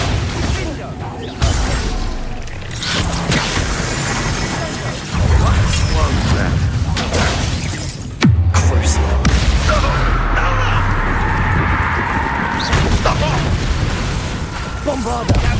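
Confringo blasting spell cast in Hogwarts Legacy, with several heavy booming bursts and crashing impacts spread across a loud, busy combat soundscape, each blast sharp at onset with rumbling decay.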